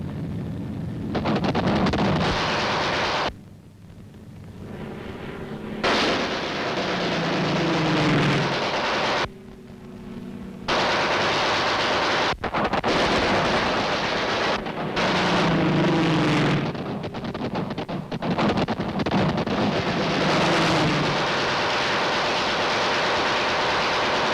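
Naval anti-aircraft guns fire on a diving German aircraft, a loud, dense barrage of booming, rattling shots that roars almost continuously, broken by a few short pauses.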